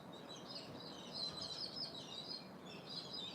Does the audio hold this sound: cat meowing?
no